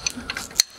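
A ratchet loosens nuts on the front axle of a vintage Ferguson FE35 tractor, giving a short burst of quick, irregular metallic clicks up close, with no talking.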